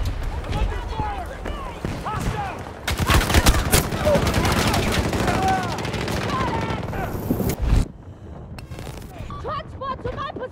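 Battlefield 2042 Breakthrough combat brings dense overlapping gunfire, bursts of automatic rifles and rapid shots in loud volleys, with game voices calling out over the battle before a brief drop in the noise near the end.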